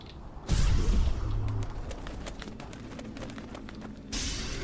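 Crows in The Witcher 2 cawing over a steady outdoor ambience, with a deep boom at the start and a loud, continuous wash of game sound throughout.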